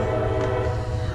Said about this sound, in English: God, where is this train at?